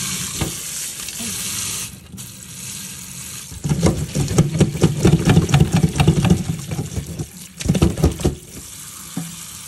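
Korean dongchimi-style ramen noodles are rinsed under a running tap in a sink. Water splashes and gurgles continuously, with louder, choppy bursts as the noodles are handled and stirred through the stream.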